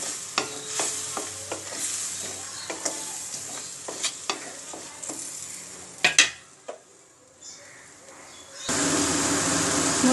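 Spice paste (masala) for chauli sabzi sizzles in a pan while a spoon stirs and scrapes it in repeated sharp clicks, quieting briefly before the frying noise swells louder near the end.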